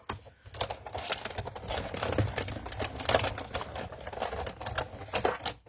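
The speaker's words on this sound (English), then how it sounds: "we're just going to throw that in the die cut machine" A die cut machine cranks a paper sentiment through its plates, making a continuous rattling, clicking grind at moderate volume for several seconds with no talking.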